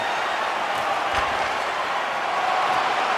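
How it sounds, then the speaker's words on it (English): A hockey arena crowd at an AHL game between the Hartford Wolf Pack and Bridgeport cheers and applauds in a dense, continuous roar that fills the space, with no clear breaks. "And the crowd's on their feet, saluting the team after a hard-fought effort this evening."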